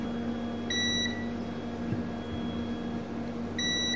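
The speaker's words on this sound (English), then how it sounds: "I check with multimeter with the continuity test." A multimeter on continuity test gives two short, steady electronic beeps, close and clear, one early and one at the end, over a low electrical hum.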